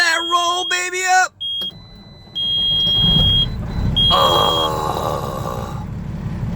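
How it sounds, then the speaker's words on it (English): A big truck's engine turns over and roars loudly up close, a deep, rough rumble that swells as it revs, with high electronic beeps over it and someone talking just before. "we're just going to hear the sounds of the big truck"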